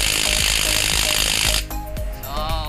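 A Lvdian impact wrench on a Starex wheel nut hammers in a loud, continuous rattling burst, then cuts out into scattered knocks and short whirring spurts from the tool.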